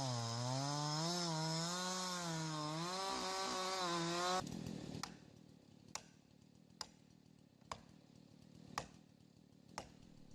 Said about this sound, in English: The powerful chainsaw ensures a smooth and efficient cut, allowing for a clean felling.